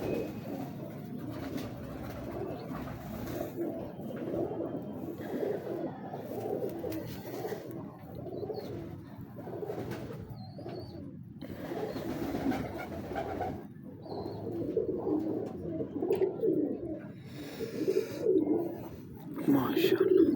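Teddy breed pigeons coo in low, throaty, repeated bursts close by, while people talk intermittently over and between the calls.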